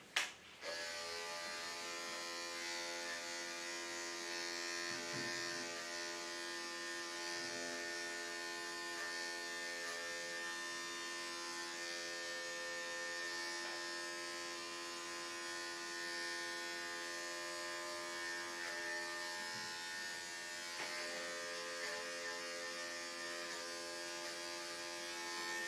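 Electric clippers run in a continuous close, steady buzz while shaving down a dog's tail, the motor tone holding nearly unchanged with faint shifts as the blades move through the coarse, needle-like hair.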